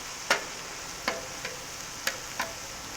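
Steak frying on a 360 XL griddle gives a faint, steady sizzle broken by a few sharp ticks and pops spaced about half a second apart, with no voices.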